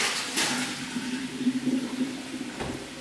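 Boiled potatoes being drained, with hot water pouring and splashing steadily out of the pot for about three seconds, a soft continuous gush at moderate distance with no talking.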